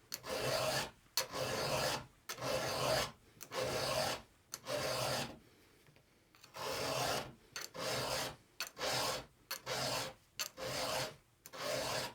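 A chainsaw file rasps across a chainsaw tooth's top plate in repeated push strokes, about a dozen close, loud rhythmic bursts with a brief pause midway, no talking.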